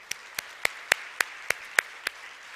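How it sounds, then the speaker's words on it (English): Brisk, evenly spaced claps, about eight sharp hits in under three seconds, ring out at a Black Enterprise women's gathering. They sound like a small, sparse round of applause rather than a full crowd. "Let's give her another round of applause for Janice."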